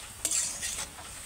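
Ginger-cumin paste with green chilli and turmeric being stirred in a hot pan, giving a soft sizzle with a few faint scraping strokes of a utensil, quiet and close, with no talking.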